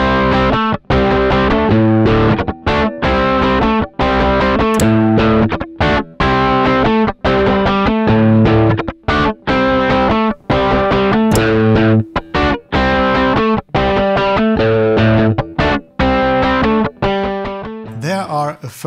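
A loud, crunchy distorted electric guitar amp on the first attenuation step of a Palmer Supreme Soaker chugs through a steady riff with frequent short gaps, sustained throughout and ending on a noisy scrape.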